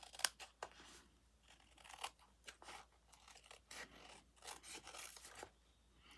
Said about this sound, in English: And trim off the excess here.